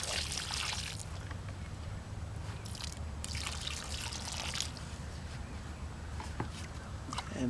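Water poured from close by into the soil around a newly planted grapevine, trickling and splashing in uneven bursts over a low outdoor background.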